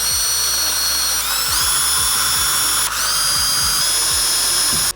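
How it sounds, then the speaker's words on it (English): An electric drill with a 3mm bit bores pilot holes for a MaxxFan Dome roof vent in a budget van build, a loud, close, continuous high whine with small pitch shifts and a pulsing low chatter, cutting off at the end. "Then pilot hole drill with 3mm drill bit."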